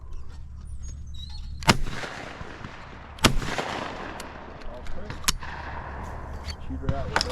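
A shotgun fires at clay targets during a shooting meet, with three or four sharp loud blasts spaced a second or two apart over faint outdoor background.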